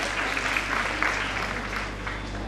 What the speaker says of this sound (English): Let us all welcome the guest of honor for the day with a big round of applause.